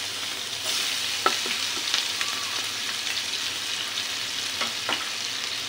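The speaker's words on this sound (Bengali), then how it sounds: "মাছ ভাজা তেলে আমি পেঁয়াজ কুচি দিয়ে দিচ্ছি।" Chopped onion fries in oil left over from frying tuna, a close, continuous sizzle with a few sharp taps and scrapes of stirring.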